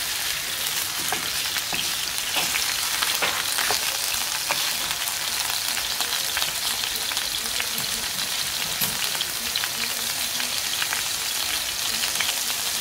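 Beef burger patties fry in a pan, giving a steady, close, dense sizzle with crackling pops throughout and no talking.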